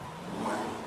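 A video game car engine revs briefly, a short mid-pitched surge that swells toward the middle and then holds, heard alone with no talking.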